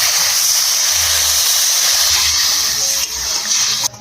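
Water poured into a hot pan of spiced fish curry with turmeric, salt and ground masala, giving a steady loud hiss and sizzle that runs nearly unbroken, easing slightly near the end.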